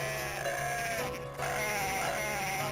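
Sheep bleat in the Dreamcast game Cool Herders, sustained cries over a constant hum of game music and low-quality audio, with a brief dip midway.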